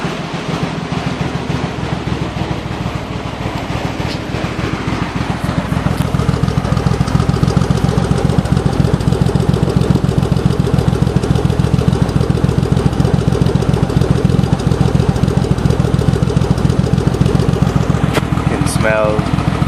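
An RB20DET engine idles with a two-cylinder misfire, a loud, rough, uneven chugging that runs continuously and grows slightly louder partway through. Faint voices sound beneath it near the end.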